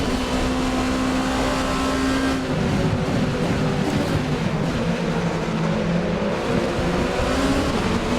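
A Toyota car accelerating in the racing game Assetto Corsa, a loud, continuous engine drone that shifts pitch as it pulls, with steady road and tire noise and no talking.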